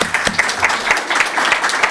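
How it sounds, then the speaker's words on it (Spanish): Audience applause at a forum on fiscal reforms, a close burst of crowd clapping with distinct individual claps audible throughout, steady and lively across the short stretch. "Les quiero pedir un aplauso"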